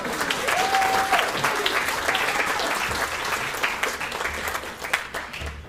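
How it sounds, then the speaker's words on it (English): A crowd applauds a Tongan Christian church brass band with dense, sustained clapping at close range. A whistle-like tone rises briefly early on, and the applause thins slightly toward the end. "So give them a round of applause."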